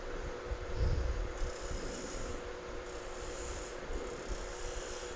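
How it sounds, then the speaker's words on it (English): A tool rubs and rasps against the rim of a small wooden bowl, cutting a slight taper with a steady, close scraping texture and a few louder bumps. "So I'm going to put just a little, just a slight taper right here."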